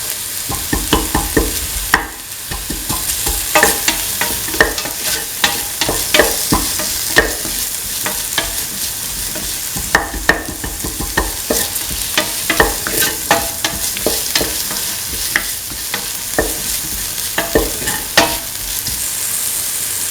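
Tomato pieces sautéed and stirred in a pan for a potato chickpea coconut milk rice, with a steady close sizzle and frequent sharp spatula scrapes and clacks recurring throughout.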